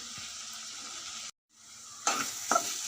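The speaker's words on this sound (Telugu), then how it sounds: "వెజిటేబుల్స్ అన్నీ వేగిపోయినాయండి" Vegetables with a little turmeric and masala powder sizzle in a pan for pasta, a steady fry broken by a short gap of silence, then louder stirring scrapes near the end.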